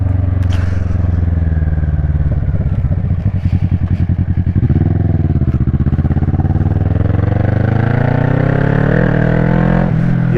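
A 2010 Kawasaki ER6N motorcycle pulls away, its engine loud and close, revs rising through the gears with a steady climbing pitch.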